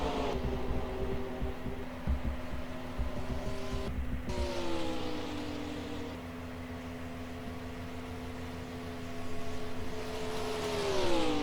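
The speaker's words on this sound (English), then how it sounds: "y'all can enjoy the sound of these cars. flying around this racetrack." Stock cars in a 2005 Southern 500 race roar around the racetrack, a steady loud engine drone with pitch sweeps as cars pass, continuous without talk.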